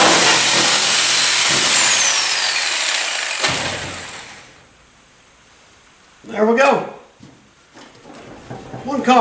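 A loud, harsh power tool grinds through the body metal of a 1962 Comet car for several seconds, then cuts off, leaving quiet stretches broken by bursts of nearby talking.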